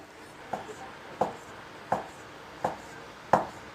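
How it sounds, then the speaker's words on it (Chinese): Knife cutting cooked pig heart, tongue and tripe into slices on a board, five sharp, evenly spaced chops close by and fairly quiet, with no talk. "煮熟的这个心舌肚切成片"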